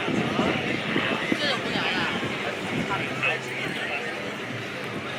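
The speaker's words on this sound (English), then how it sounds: "He's got this airplane cranked up 260 horsepower." A two-seat aerobatic airplane with a 260 horsepower engine drones at an airshow, its steady, moderately loud engine noise carried with wind and crowd ambience under an announcer's voice.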